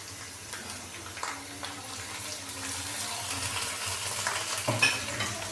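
Water hits ginger garlic paste frying in a pan, giving a soft steady sizzle with scraping stir strokes and a louder clatter near the end, fairly quiet and close.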